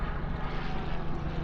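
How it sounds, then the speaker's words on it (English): A helicopter passes overhead, a steady broad engine and rotor roar at constant loudness, close and alone without talk. "helicopter."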